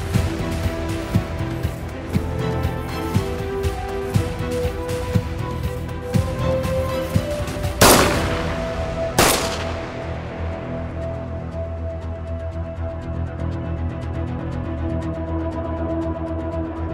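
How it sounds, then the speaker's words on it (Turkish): Two sharp, loud cracks from a low-caliber gunshot ring out about a second apart in the middle, over a steady background of music. "Silah sesi. Düşük kalibre."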